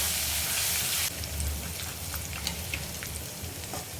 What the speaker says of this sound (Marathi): साबूत लाल मिरची टाकू थोडीशी हिंग टाकू पाव चम्मच आणि याला छान फिरवून घेऊ